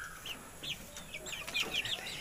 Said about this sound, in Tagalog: ito po yung aking mga lagang manok